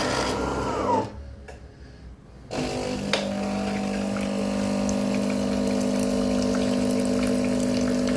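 DeLonghi ECAM 23123B coffee machine during descaling, its pump humming steadily as water flows out, a short quieter gap early on before the continuous drone resumes, no talking.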